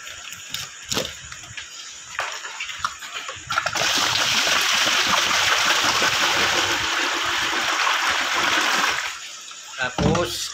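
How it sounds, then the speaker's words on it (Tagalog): Fresh water is poured into the tank of a mineral water purifier, a steady, close splashing gush lasting several seconds, framed by quieter handling sounds before and after. "Lagyan natin ng panibagong tubig guys."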